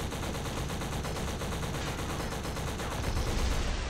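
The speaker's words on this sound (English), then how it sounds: "We'll destroy the guy in the RPG tower by just shooting at him repeatedly." Automatic gunfire in the video game Black, fired repeatedly at an enemy in an RPG tower: dense, loud, continuous bursts of shots that run without a break for the whole stretch, with no talking.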